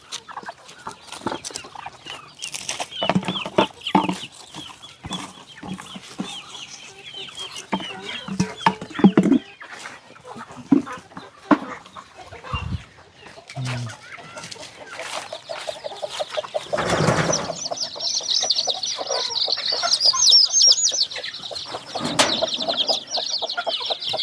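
Chickens cluck at a rural Thai farmyard in cold weather, steady bursts of close, fairly loud clucking with a few wing flaps, rising into a busier, denser stretch of fowl calls toward the end.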